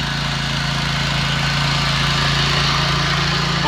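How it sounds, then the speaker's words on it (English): Engine of a ride-on core aerator running steadily on a lawn, a loud continuous mechanical drone with a strong low hum, close by and unbroken, no voices. "Our ride-on core aerator."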